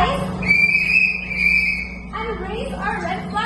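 A tour guide blows a whistle in one long steady blast that holds for over a second and a half, bright and close, followed by scattered softer sounds and a low hum from the surroundings.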